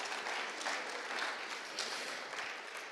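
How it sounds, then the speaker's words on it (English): An audience claps steadily in a sustained burst of applause at a conference summit, fairly distant and even, with no voices on top. "let's give ourselves a big round of applause for being so fantastic"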